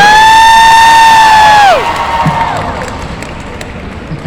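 Audience at an Anime Las Vegas 2023 Death Note convention panel cheers and applauds the cast, opening with one loud sustained whoop that falls in pitch and then settles into a softer, steady crowd roar.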